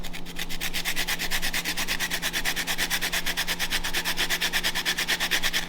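A lemon is zested against a grater in quick, even scraping strokes, about six per second, close and steady, with no talking.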